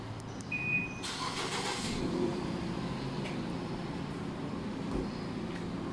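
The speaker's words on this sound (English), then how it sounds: "Remote auto start." A Nissan Livina engine is started by remote auto start: a brief cranking burst, then the motor settles into a steady, fairly quiet idle heard from nearby.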